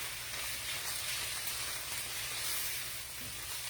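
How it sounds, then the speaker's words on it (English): Lentils hitting a hot pan and being stirred around, producing a soft, steady frying hiss that stays even and fairly quiet from start to finish, with no voices. "put our lentils in. Give it a good little stir around"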